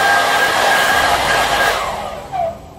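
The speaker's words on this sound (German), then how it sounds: "Und jetzt schalte ich den Föhn ein." A hair dryer runs steadily at close range with a strong, even airflow roar and a thin motor whine, then eases off slightly near the end, with no talking.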